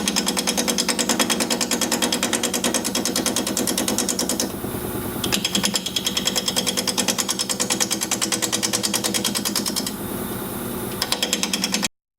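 Wood lathe spinning at 580 RPM while a 5/8 inch bowl gouge cuts, producing a rapid, loud rattling chatter with a steady pulse, close up, briefly easing twice as the tool lifts off the wood.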